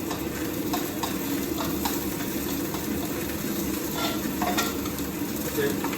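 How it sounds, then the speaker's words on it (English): Chorizo fries in a little oil in a pan with a continuous crackling sizzle close up, broken by a few light stirring clicks, while a low hum runs underneath. "I'm just going to add a wee bit of oil in there for the chorizo."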